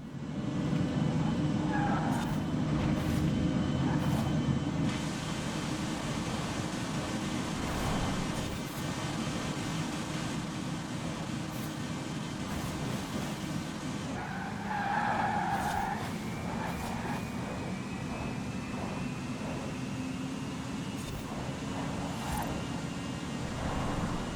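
A Raesr Tachyon race car engine in Forza Horizon 4 whirs continuously at high pitch, with occasional tire skids and brief clicks, no talking.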